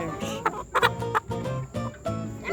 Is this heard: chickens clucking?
yes